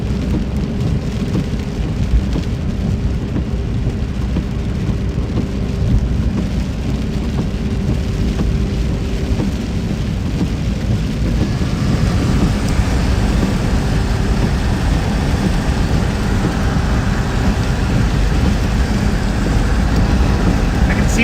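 Steady heavy rain pours through the backside of a tornadic thunderstorm, a dense, loud hiss with low rumbling underneath that continues without a break.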